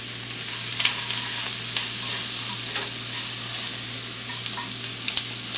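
Long grain white rice stirred in a pot with smoked sausage, chicken, seasoning and vegetables for Louisiana jambalaya, a steady sizzle under scraping spoon strokes and soft clicks throughout, close and alone.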